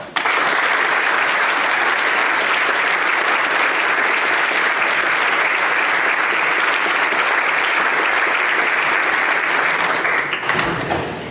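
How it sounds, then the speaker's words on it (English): Sustained loud applause from a school audience honoring newly inducted National Junior Honor Society members, a dense, even clatter of clapping that lasts throughout and trails off at the very end. "Can we please give them another round of applause?"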